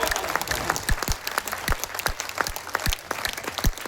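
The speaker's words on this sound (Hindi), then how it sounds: "इस प्यारी सी बिटिया को भरे आकाश के लिए आपकी तालियां उठनी चाहिए।" Listeners at an all-India Hindi poetry gathering applaud, a dense wash of clapping with sharper individual claps standing out, steady for several seconds.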